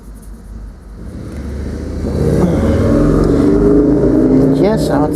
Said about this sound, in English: Yes, outside there are cars. Yes, I have my window open.